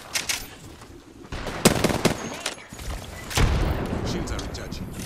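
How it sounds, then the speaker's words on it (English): Squad gunfire in a sci-fi multiplayer shooter match: repeated bursts of weapon fire and sharp blasts, loud and close, with brief quieter gaps and a dense crackle of game effects throughout. "Squad is firing on us."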